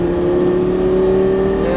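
Lamborghini Gallardo LP550 engine held at a steady, loud droning rev on a racing track under throttle, a sustained even tone throughout with no voices.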